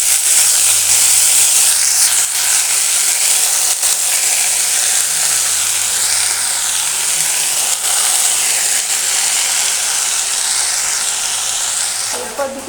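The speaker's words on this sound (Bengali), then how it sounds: "রসুন ফোড়নটাকে ভালো করে ভেজে নেব, তারপর কেটে রাখা শাকগুলো ওর ভিতরে দিয়ে দেবো" Garlic frying in hot oil with chopped greens added, a loud, dense, continuous sizzle and hiss heard close up throughout.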